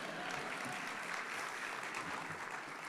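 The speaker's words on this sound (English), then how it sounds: "You can applaud that." An audience at an economic club talk applauds, a dense, even patter of clapping held at a moderate, somewhat distant level for a few seconds.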